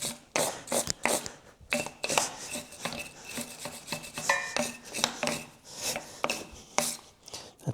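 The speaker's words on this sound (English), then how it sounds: "So I'm just cleaning off all of this here before we put on the new gasket." Repeated quiet scraping and rasping strokes, in an uneven rhythm, as old gasket material is cleaned off the engine surface of an old Steyr T80 tractor during a water pump replacement.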